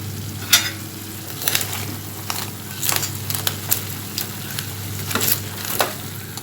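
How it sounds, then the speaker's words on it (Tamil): Crab masala sizzling in oil while pepper powder is stirred in, with a steady frying hiss broken by scattered scraping strokes of a spoon against the pan, heard close and alone. "மிளகுத்தூள் போட்டு நல்லா கிண்டி விட்டுருங்க."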